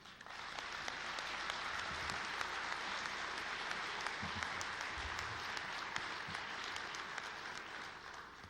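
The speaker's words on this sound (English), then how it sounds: "please join me in another round of applause for all the credit unions" A round of applause at the National Credit Union Foundation's Herb Wegner Awards honoring the credit unions, a broad, even wash of clapping from a large audience that holds steady throughout, with a few low murmurs beneath.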